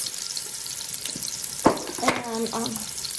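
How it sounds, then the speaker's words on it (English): Meat and onions sautéing in a pan for an Italian stracotto pot roast, a soft steady sizzle with a few light clinks and stirring scrapes, heard up close. "To saute the meat with some of the onions."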